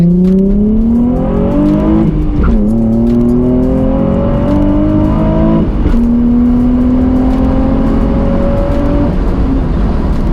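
A Nissan 350Z manual sports car engine revs through several gear changes, pitch climbing then dropping with each shift, loud and close throughout.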